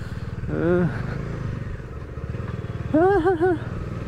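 A motorcycle rides along a road in Goa near Chapora Fort, its engine giving a steady, close drone throughout. A voice speaks briefly over it twice.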